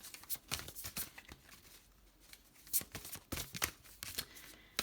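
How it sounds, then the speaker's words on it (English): Large tarot cards are shuffled by hand in a quiet room, giving a series of close, crisp riffling bursts and soft slaps at an uneven rhythm, with no talking. "This deck is not so easy to shuffle because the cards are rather big"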